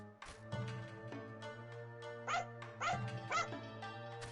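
A dog barks and whimpers in the action game Onimusha 2: a few short yelps and whines rising over steady game music, close and moderately loud.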